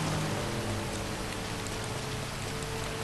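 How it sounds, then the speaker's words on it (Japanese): Heavy rain in the video game GTA 5 pours down as a dense, steady hiss of drops hitting surfaces, loud and unbroken with no voices. "すごい雨。"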